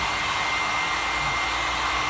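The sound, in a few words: heat gun heating motorbike graphics sticker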